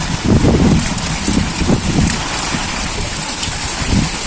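Rain falling steadily on surfaces outdoors as a thunderstorm approaches, with a constant hiss and scattered low rumbling bursts that could be distant thunder, fairly loud and without talk.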